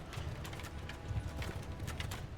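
Cavalry horses galloping in a medieval battle in Mount & Blade II: Bannerlord, a quiet continuous patter of many hooves drumming together.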